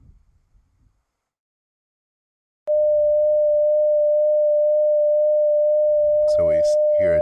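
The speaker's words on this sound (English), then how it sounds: "So we hear a gentle vibrato. It's going 4 hertz above and 4 hertz below 600 hertz." A steady 600 Hz electronic tone with a gentle 4 Hz frequency-modulation vibrato sounds loud and continuous for several seconds after a short quiet stretch, with a faint voice entering near the end.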